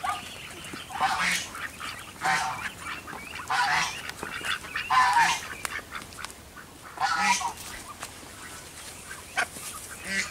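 Geese honk near a nest of newly hatched goslings, with repeated loud, nasal calls arriving in bursts over steady outdoor background noise and no talking.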